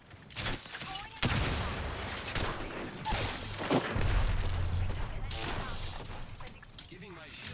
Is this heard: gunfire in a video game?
yes